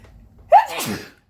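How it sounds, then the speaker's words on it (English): A single sharp sneeze bursts out after a quiet moment, followed by a breathy, trailing exhale, close and fairly loud. "Excuse me, I'm going to sneeze."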